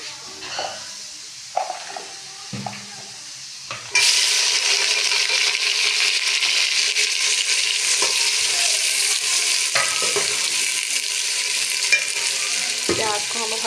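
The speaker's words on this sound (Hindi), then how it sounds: "प्याज को हम हल्का सा ब्राउन होने देंगे।" Chopped onions drop into a hot pan and fry toward brown, bursting into a loud, steady close sizzle after a few quieter clatters, with occasional stirring scrapes and no talking.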